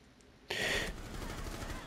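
Gunfire in the video game Rainbow Six Siege, a sudden loud burst followed by sustained, rattling shooting and game noise, with some voice beneath it.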